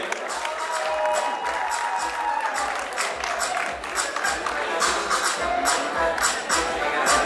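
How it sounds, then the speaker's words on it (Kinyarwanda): Audience at a Rwandan film award ceremony clapping and cheering for actress Nikuze, a dense steady wash of applause from a large crowd lasting throughout, with voices mixed in. "Amashyi menshi cyane kuri Nikuze tumwakire"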